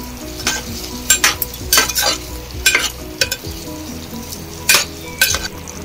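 Shark fish (mori) masala with mustard paste and kokum frying in a pan, with a loud sizzle under repeated sharp scrapes and clinks of a spoon stirring against the metal.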